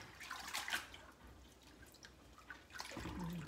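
Mustard greens are rubbed by hand under water, giving faint, close splashes and drips with soft sloshing that swells toward the end.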